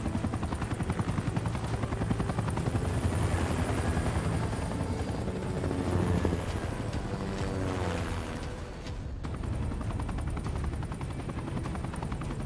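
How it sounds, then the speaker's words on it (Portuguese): A helicopter lifts off in the battle royale video game Super People, its rotor chopping loud and steady with a dense engine roar that dips briefly near the end. "Aerocóptero subindo."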